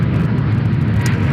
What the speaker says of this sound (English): Chinook.